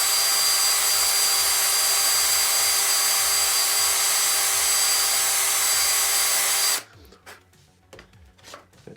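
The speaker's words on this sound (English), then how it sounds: "Maybe I'll just run that drill bit up and down through there a couple more times" A power drill runs a bit up and down through a hole in wood for a model airplane kit build, a steady loud whir with scraping rubs, then the motor cuts off, leaving faint handling noises.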